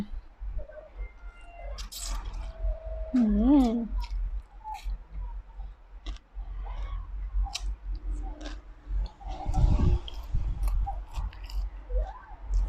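Close chewing and crunching of cucumber som tam salad with shredded pork sausage and fermented fish sauce, moist bites and clicks scattered across the clip with brief vocal sounds.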